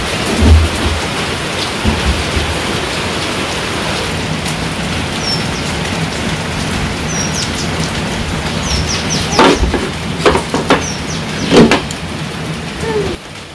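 Heavy rain pours down on a rural village in a steady, loud hiss, with several sharp cracks and rumbles of nearby thunder breaking through toward the end.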